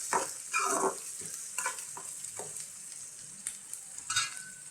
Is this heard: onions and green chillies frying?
yes